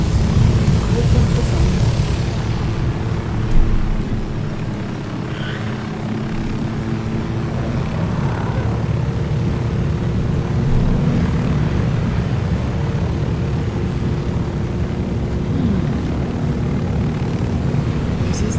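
Steady helicopter rotor and engine drone in the video game Ghost Recon Wildlands, loud and continuous throughout, with occasional faint voices underneath.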